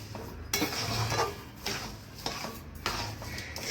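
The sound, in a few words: stirring sugar into carrot halwa in a pot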